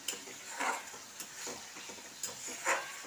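Korai ilish, a hilsa fish curry, stirred in a pan over the heat, with a low sizzle under repeated scraping strokes coming in soft, evenly spaced swishes, close by and with no talk.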